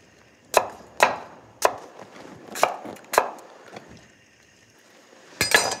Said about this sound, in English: Cut it into chunks.